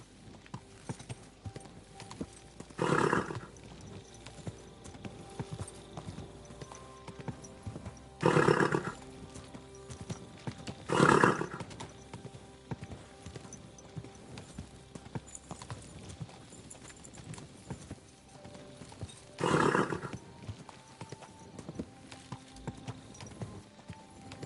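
A horse in the Kingdom Come Deliverance 2 video game gives four separate loud bursts, snorting or whinnying, spaced several seconds apart over a quiet, busy game ambience.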